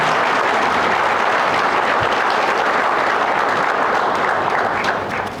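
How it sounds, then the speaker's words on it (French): Sustained audience applause at a mining trades forum in Burkina Faso, a dense, even wash of many hands clapping close and loud throughout, tapering slightly at the very end, with no talk over it. "Je vous demande de les applaudir"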